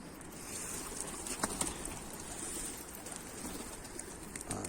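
Pigeons cooing inside a loft, soft low coos steady and fairly near, with a few brief wing flutters and faint chirps over a continuous background hiss.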